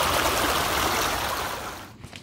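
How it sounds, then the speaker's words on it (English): River water flowing, a loud, steady broadband rush that stays close and constant, then drops away suddenly near the end. "into the river they go."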